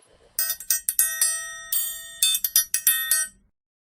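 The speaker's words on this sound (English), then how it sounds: "gong" A gong or bell-like metal instrument is struck repeatedly in quick irregular bursts, bright ringing tones with sustained shimmering overtones, fairly loud and close, without talk.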